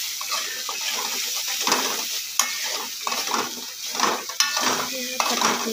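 Asafoetida and turmeric sauté in hot oil in a pan while chole is being made. A continuous close sizzle runs throughout with stirring scrapes and clatter, and faint talk sits underneath.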